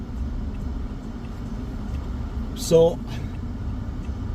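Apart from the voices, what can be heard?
car driving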